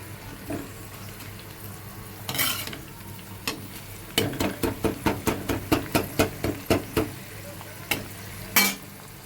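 Mustard seeds and cumin frying in hot oil in a pan, with a faint sizzle under a quick run of sharp, close scraping and stirring clicks that grows into a steady rhythmic series.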